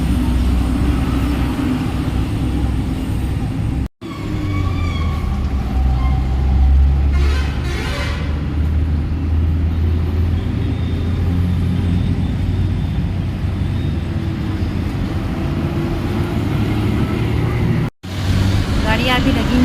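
Road traffic at a roadside stop where a traveller waits for a bus to Pune, a continuous low rumble of passing cars and buses with engine drone, alone and fairly close.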